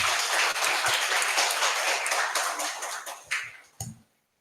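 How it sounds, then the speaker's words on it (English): Audience applause at a summit round table welcoming someone speaker, a full burst of clapping that thins out over the last second into a few isolated claps before silence. "Let's invite her with a round of applause."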